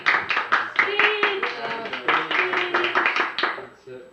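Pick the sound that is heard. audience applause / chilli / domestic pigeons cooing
audience applause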